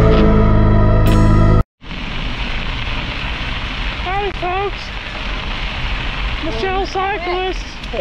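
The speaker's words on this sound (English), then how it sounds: "is making us ride in the rain" Steady rain from a strong thunderstorm hisses loudly and continuously during a bike ride, with brief birdlike chirps rising over it near the middle and end.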